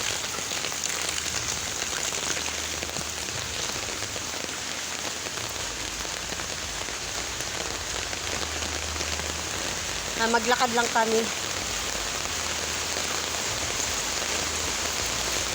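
Steady heavy rain falls during a typhoon while people walk, a dense unbroken hiss with a brief patch of speech partway through.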